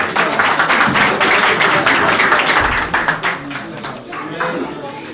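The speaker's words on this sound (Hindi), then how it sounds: "बहुत बहुत स्वागत यशवंत जी का, एक बार जोरदार तालियों से।" Dense, steady applause from an audience at an Uttarakhand community gathering in Gurgaon, with many hands clapping together loudly throughout and fading slightly near the end.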